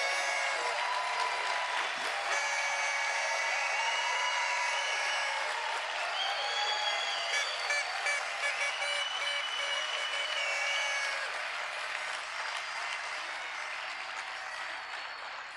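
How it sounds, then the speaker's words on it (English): Conference attendees stand and applaud themselves at the closing session, dense sustained clapping from a large crowd with faint cheers and voices mixed in, gradually thinning toward the end. "Will all the attendees just stand up and clap for yourselves?"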